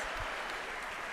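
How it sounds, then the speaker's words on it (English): A dense, steady round of applause from an awards-night audience at a university athletics event, continuous and fairly even for the whole short stretch. "Let's give yourself a round of applause."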